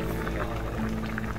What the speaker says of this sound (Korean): 보글보글 끓는 소리만 들어도 군침이 꿀꺽 넘어간답니다.